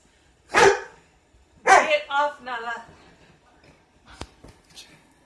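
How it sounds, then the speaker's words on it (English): Siberian husky barking and yowling indoors near a bed, with a sharp bark, then a longer warbling howl-like vocalization, followed by faint thuds and a small yip. "Crazy dog."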